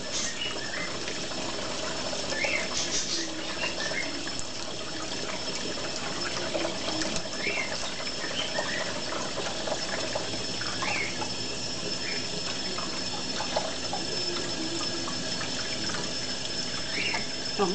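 A pet parrot bathes under water from a tap. The water runs steadily with soft splashing and small flutters throughout, at moderate volume with no talking.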